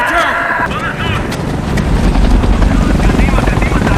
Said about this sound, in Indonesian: Gary pun berniat membawa Sagan naik helikopter.